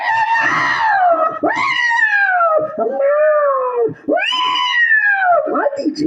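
A human voice imitates a tomcat and a female cat caterwauling, loud drawn-out wailing yowls rising and falling in long howls with short breaks between them, close and alone.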